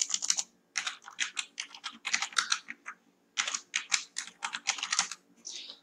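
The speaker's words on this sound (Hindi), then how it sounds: "टाइप कर दीजिए जो भी आपका पासवर्ड है" A password being typed on a computer keyboard while setting up an ADSL modem, with quick bursts of close, crisp key clicks separated by short pauses.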